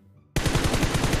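Rapid automatic gunfire in a multiplayer shooter video game, a loud close burst of evenly spaced shots starting abruptly after a quiet moment.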